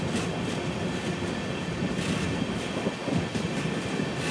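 A special passenger train runs on the rails alongside, giving a steady loud rumble of wheels with a rhythmic clickety-clack and faint squeal, heard up close and continuous with no voices.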